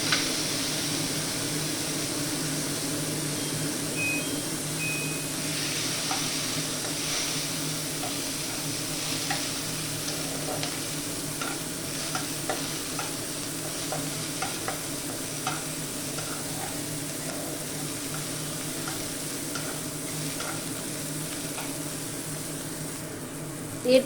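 Chopped tomatoes fry with capsicum in a pan for chhana bhujia, a steady close sizzle broken by light scraping and stirring clicks throughout.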